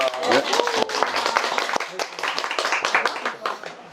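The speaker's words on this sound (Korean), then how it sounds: "우리 열렬한 박수로 환영합시다." An audience at a business seminar lecture claps steadily in welcome for the speaker, a dense, sustained round of applause from a room full of people that fills the whole span.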